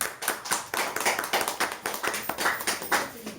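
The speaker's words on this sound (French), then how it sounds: "Je vous demande de poser l'acte positif à l'applaudissement." Audience applause at a national protestant church gathering, a dense patter of many hands clapping steadily and fairly loudly throughout, with no talk over it.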